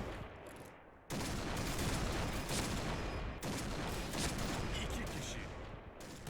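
Rapid gunfire in the Point Blank video game, a dense, continuous barrage of shots that fills nearly the whole stretch after a brief quieter opening, with a short dip partway through.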